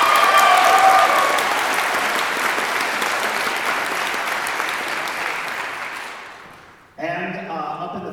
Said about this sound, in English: So let's give Abby a round of applause.